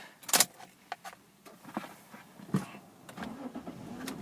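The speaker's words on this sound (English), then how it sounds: "if we just get the car started" Beige 2000s Lexus IS200 SE automatic petrol car being started: keys jangle, then a short crank and the engine catches and settles into a low, steady idle, heard close inside the car.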